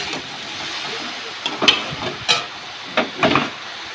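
Water lily stems frying in a wok over a home stove, a faint background sizzle broken by several short scraping and stirring clatters in the second half.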